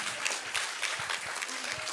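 Congregation applauding at an evening mountain prayer meeting at a prayer retreat, a dense, steady wash of many hands clapping together for about two seconds with no speech over it.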